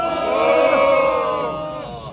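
A crowd at an outdoor press conference held by civic groups lets out a loud, sustained collective shout of cheers that swells and then gradually fades over a couple of seconds.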